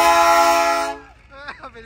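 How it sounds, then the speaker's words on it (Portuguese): A loud, sustained train horn blast holds for about a second and then cuts off, followed by a brief voice. "ele vai buzinar bem aqui"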